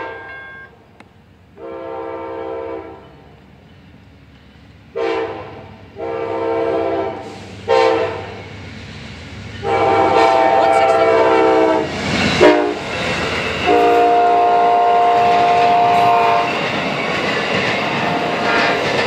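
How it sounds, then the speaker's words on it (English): Amtrak train 92, led by a single engine including a 50th anniversary heritage unit, passes at night in Plant City, Florida, sounding a loud multi-tone horn in repeated blasts before the rumble and clatter of the passing cars. "There goes Amtrak train 92 with 50th anniversary"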